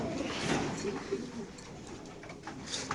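A racer pigeon at a pigeon farm coos softly in low, rolling calls, with people talking nearby and a busy background murmur.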